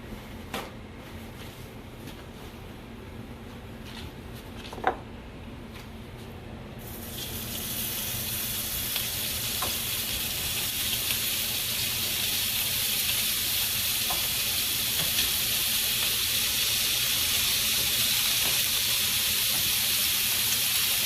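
Sausage dropped into a pan with olive oil, a few light knocks and taps before a loud, bright sizzle erupts and holds steady without pause, no voices over it.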